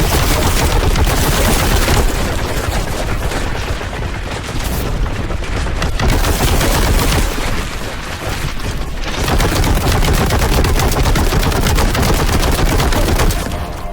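Heavy automatic weapon fire in Warhammer 40K: Boltgun, a loud, dense, continuous barrage of rapid booming shots with a few brief dips, no voices.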